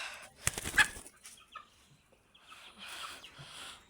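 Chickens, including crested hens, cluck and squawk nearby in a short burst, then trail off into scattered soft clucks and rustling on a quiet farmyard.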